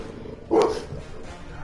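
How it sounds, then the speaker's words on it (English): A dog gives a single short, loud bark close by, standing out from a quiet room background. "that's my dog barking"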